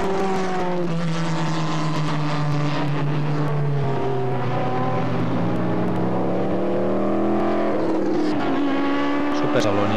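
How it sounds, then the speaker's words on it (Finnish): Supersalon-class race cars, freely tuned machines with engines up to 600 hp and mostly plastic bodies, roar past at a 1983 Ahvenisto circuit race meeting, loud and continuous with engine pitch rising and falling as they accelerate. "Uutuutena näillä vauhtipäivillä olivat Supersalon-luokan autot, jotka ovat varsin näyttäviä vapaaviritteisiä autoja, joissa moottorit ovat jopa 600 hevosvoimaisia."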